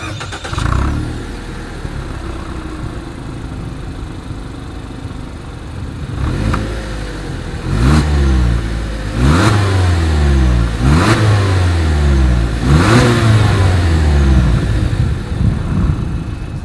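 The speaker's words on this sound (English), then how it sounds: "As always, here is that exhaust clip." A 2020 Toyota Yaris engine idles, then revs sharply several times in quick succession, each burst rising and falling, loud and close to the exhaust.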